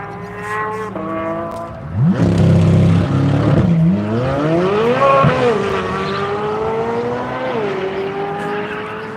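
Race cars at Grattan Raceway set off on a lap of Tire Rack One Lap of America, with loud engines revving and shifting, brief tire squeal and several cars roaring past close by in overlapping waves.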